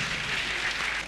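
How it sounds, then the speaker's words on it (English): Applause from a live stage worship audience, a short burst of steady, dense clapping at moderate loudness with no talk over it. "Clap your hands for Jesus."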